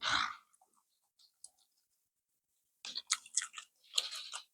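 Someone chews crunchy steamed squid close to the mic: a loud crunchy bite at the start, then near silence with faint clicks, then a run of moist crunching and smacking bites.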